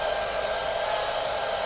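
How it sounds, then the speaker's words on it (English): A hair dryer runs steadily at close range inside a Honda Civic Type R EP3, a constant loud airy whoosh with no pauses or voices. "Ed can't turn off the hairdryer"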